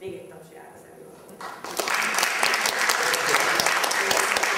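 An audience at a lecture breaks into applause after a quiet start with a little talk. The clapping swells quickly into steady, dense, full-room applause that carries on to the end.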